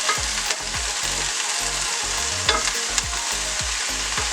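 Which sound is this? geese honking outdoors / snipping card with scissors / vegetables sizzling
vegetables sizzling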